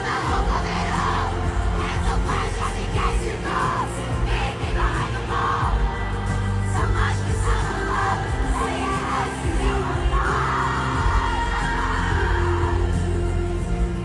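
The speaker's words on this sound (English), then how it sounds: "you too can drop thousands of dollars to hear preteens screech over the artists you came to see" Preteen fans screech and shriek in a packed stadium at a concert, a dense, loud wall of crowd screaming that never lets up.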